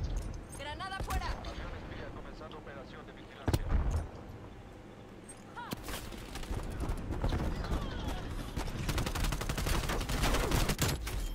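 Bursts of Call of Duty: Black Ops Cold War gunfire crackle in quick, rapid volleys with louder single shots, fairly quiet overall amid busy game noise.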